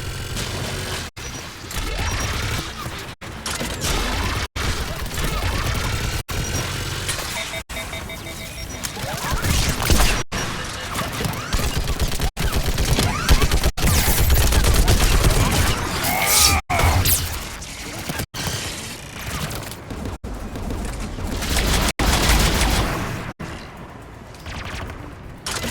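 A mounted turret fires in Mass Effect 3, loosing a long stream of sharp, heavy shots and mechanical clatter broken by brief pauses, loud and close, with a faint voice underneath.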